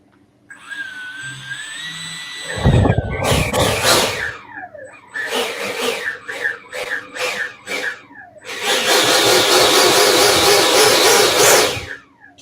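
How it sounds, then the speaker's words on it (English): An electric ducted fan (EDF) motor, freshly balanced, whines up through rising and falling tones in several short bursts, then holds a loud, broad rushing roar for a few seconds before cutting off, heard up close. "Gonna hear what a good fan sounds like"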